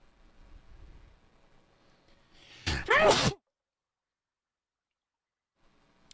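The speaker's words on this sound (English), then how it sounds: "Ooh, I had to sneeze." A single loud, abrupt sneeze bursts out close to the microphone around the midpoint, after quiet background sounds from a Mass Effect 1 gaming session, then falls to near silence.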